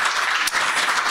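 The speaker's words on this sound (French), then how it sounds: "je vous demande d'applaudir" Conference audience applauding in a hall, a steady wash of clapping throughout with a brief dip midway, no voices over it.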